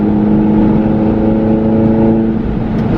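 A Mini Cooper S JCW with a 211 hp pack drives along, its engine and exhaust giving a steady, loud droning hum that stays close and constant with no voices over it.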